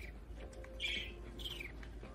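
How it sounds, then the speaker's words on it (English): A bird in the video game Stray chirps in a few short, bright tweets over quiet background ambience. "Well, that bird is talking today."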